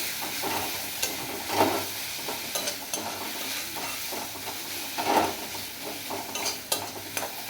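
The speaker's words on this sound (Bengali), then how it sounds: "ধনের গুঁড়া দিলাম 1 চামচ, দিয়ে ভালো করে উপকরণগুলো নেড়ে চেড়ে নেবো।" Cumin, coriander powder and other spiced ingredients for a mustard katla fish curry with potato fry in a pan, a soft continuous sizzle broken by repeated scraping strokes of a spoon stirring, with no voices.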